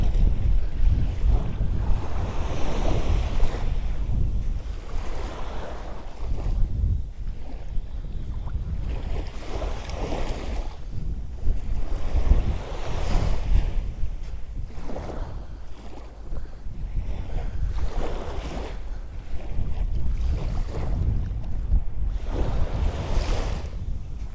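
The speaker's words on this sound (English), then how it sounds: "Oh, just a breeze." Steady wind gusting across the microphone on a beach in Magaluf, Mallorca, with the low roar of surf rolling in, swelling and easing in waves; no voices.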